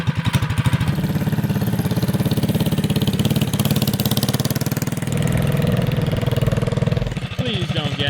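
A 10HP mini quad's small engine runs loud and close with a steady rapid buzzing drone, a slight rise in pitch midway, and people talking over it.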